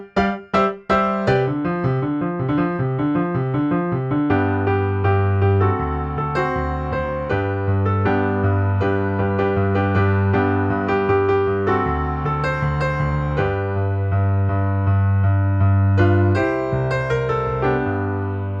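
Solo piano playing a 1966 song up into the pre-chorus, with a steady bouncing rhythm of chords over a sustained bass, loud and close with no talking.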